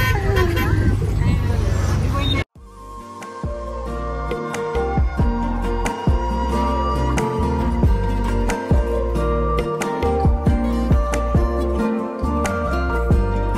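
Busy street traffic en route to Pulchowk, with cars and buses passing and arriving and short horn toots breaking through a steady roar after an abrupt cut; people talk over it at first.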